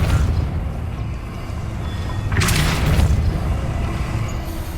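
Depulso spell cast in the Hogwarts Legacy video game: a single sudden broadband blast that swells and fades over about a second, rising out of a steady background ambience.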